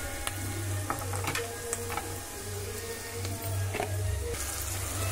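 Chopped onions and green chillies sizzle steadily in a pan, a constant close frying hiss with a few soft stirring scrapes and ticks over it.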